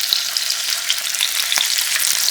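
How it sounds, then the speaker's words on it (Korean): Sliced tofu, cut about 1 cm thick, frying in plenty of cooking oil in a pan over medium-low heat. It gives a steady, close, bright sizzle with a few sharp pops scattered throughout. "앞뒤로 노릇노릇하게 구워"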